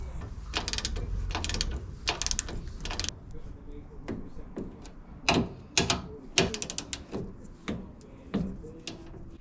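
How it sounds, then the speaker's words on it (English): Ratchet wrench clicking as car front subframe bolts are torqued, with repeated short bursts of sharp metallic ratcheting at close range and brief pauses between the strokes. "This damper lower mounting bolt gets torqued up to 100 Newton meters."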